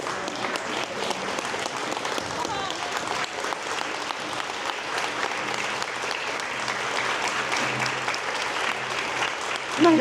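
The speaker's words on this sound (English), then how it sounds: "let's take a stand up and clap" A standing crowd claps continuously for about ten seconds in sustained, even applause, with a few voices faintly audible underneath.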